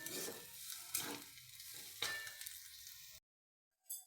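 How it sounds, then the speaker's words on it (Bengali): Spice masala with coriander powder, the filling for cauliflower chops, is stirred and fried in a pan, giving a soft, continuous sizzle with a few scraping strokes before it stops abruptly, followed by a brief faint rustle. "ভালোভাবে নাড়াচাড়া করে আবারও মশলাটাকে কষিয়ে নেব।"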